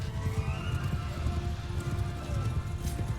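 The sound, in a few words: horse galloping in Mount & Blade II Bannerlord video game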